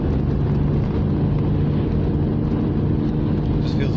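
Alfa Romeo 156 with a 2.5 litre V6 engine running, a steady low rumble holding even and loud throughout with no clear revving.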